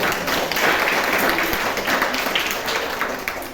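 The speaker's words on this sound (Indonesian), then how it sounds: "tepuk tangan dulu buat Forrest Gump" A school audience applauds during a talk about Forrest Gump, steady dense clapping filling the room at moderate loudness throughout.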